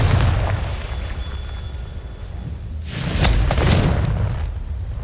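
Confringo spell blast in the video game Hogwarts Legacy: a loud boom bursts out after a quiet stretch of low game ambience, followed by crackling, whooshing aftermath that rumbles on for a couple of seconds.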